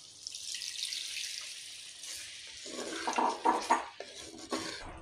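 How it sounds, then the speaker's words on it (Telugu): Water left from soaking paneer is poured into a simmering paneer masala curry, giving a soft splashing trickle that builds into a few brief, louder splashes and faint clinks near the end. "ఆ నీరుని ఇందులో పోసుకొచ్చండి."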